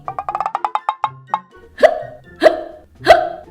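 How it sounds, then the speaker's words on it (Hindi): Repeated hiccups from a woman in a Hindi children's story, a quick run of about a dozen sharp hiccup bursts followed by three louder, longer, strained hiccups, close and alone with no talk. "लेकिन उसकी हिचकियां बंद नहीं हुई"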